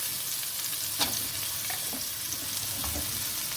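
Baby corn, French beans, cauliflower and carrot sauté in a hot pan with a steady bright sizzle and light stirring scrapes throughout. No voices.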